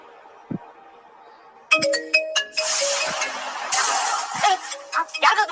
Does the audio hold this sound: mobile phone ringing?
yes